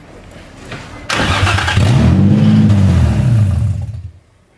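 A Nissan VQ35DE V6 running open headers with no exhaust fires up and revs hard, a loud raw rising-and-falling roar held for a couple of seconds before cutting off.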